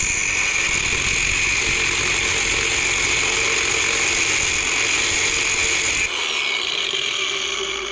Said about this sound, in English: if you just score a line with the hacksaw, you come in here with the angle grinder,